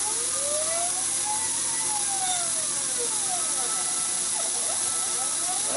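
Milling machine cutting aluminum with a 3/16 inch four-flute end mill, a steady whir under broad hiss and rising, sweeping tones as the cut moves, with quiet talk.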